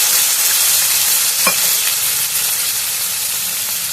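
A small measure of water heats in a pan toward a boil for a semolina breakfast batter, producing a loud, steady hiss and sizzle throughout with one brief bubbling pop near the middle.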